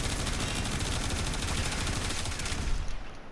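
Rapid, sustained bursts of Boltor Prime fire in the video game Warframe, a dense loud volley that runs unbroken for about three seconds before tapering off.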